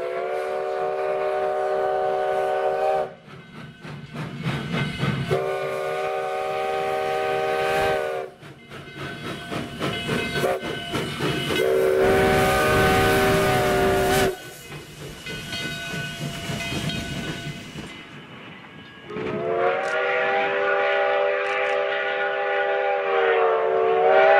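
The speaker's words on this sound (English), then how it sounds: "After the engine is serviced, it runs back toward the depot." A Virginia & Truckee steam locomotive running back toward the depot sounds its whistle in several loud sustained blasts, separated by gaps filled with hissing steam and chuffing.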